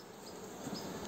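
Honeybees at an open hive frame make a faint, continuous buzzing hum, steady and soft, with no voices.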